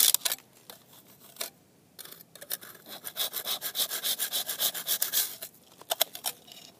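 A hand saw cuts at an angle into a block of ice being carved into a cylindrical bird feeder, rapid rhythmic rasping strokes up close, with a short pause before a long steady run of sawing.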